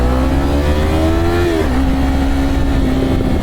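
A Yamaha R3 two-cylinder motorcycle pulls away onto a main road, its buzzy engine note climbing steadily, dropping briefly at a gear change, then rising again, loud and close throughout.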